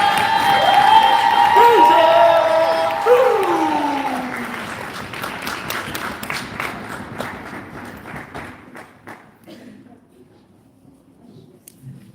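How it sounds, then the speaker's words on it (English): Crowd at a poetry slam festival in downtown Las Vegas applauding and cheering loudly, with a high whoop over the clapping early on, then the applause thins and fades into scattered claps and quiet. "but go ahead and start clapping."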